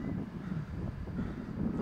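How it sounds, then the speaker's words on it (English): Wind buffeting the built-in microphone of a Canon EOS M camera outdoors, a steady low rumbling roar with uneven gusty swells throughout, no voices. "And yeah, it's windy."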